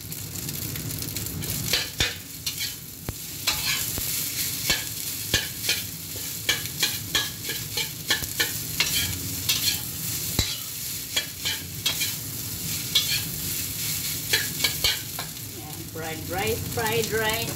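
A spoon scrapes and stirs fried rice in a pot over a steady sizzle, with irregular clanking strokes repeating close up throughout and quickening near the end.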